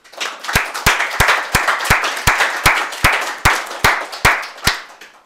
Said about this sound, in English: Round of applause for Stuart, please